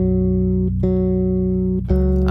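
Steady synth beep holding one repeated tonic note within a song arrangement, sustained bright tones broken by short gaps, loud and alone.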